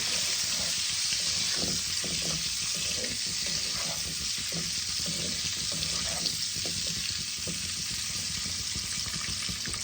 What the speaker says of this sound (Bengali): ডিম দেখো আমার লাল লাল করে ভাজা হয়ে গেছে